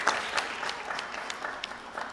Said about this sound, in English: please give her a round of applause in her absence.